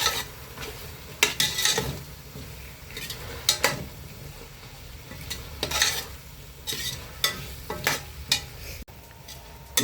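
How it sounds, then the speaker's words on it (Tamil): A spoon scrapes and stirs sambar powder frying in oil in a pan, with soft sizzling underneath and repeated sharp metallic clinks of utensil against the pan, close and intermittent. "இந்த எண்ணெயிலேயே இந்த தூள் கொஞ்சம் நல்லா வதங்கட்டும்."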